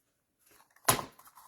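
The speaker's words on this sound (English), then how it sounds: "So I'm just going to fold that over like that." The bottom flaps of a cardboard box fold over with soft rustles, then one quick, fairly crisp papery crease and thump, alone in a quiet room.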